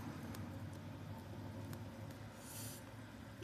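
A small red car passes on a German street, a steady low engine and tyre rumble heard up close with no voices over it.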